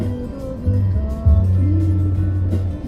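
Road traffic crawling along a narrow mountain road near Shimla, a steady low engine drone with idling and revving vehicles, fairly close and continuous throughout.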